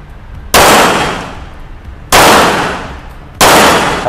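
Three loud, sharp pistol shots from a Rock Island Armory STK 100 at an outdoor shooting range, spaced unevenly with echoing decay after each report and no talking.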